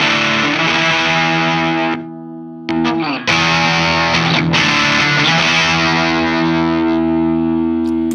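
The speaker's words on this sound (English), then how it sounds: "you'll notice that the new Expandora has a little bit more clarity to it" Electric guitar played through a new Expandora distortion pedal, with a vintage Bixonic Expandora used for comparison: thick, saturated sustained chords ring loud and close, with a brief gap and a few restruck chords, and no voices.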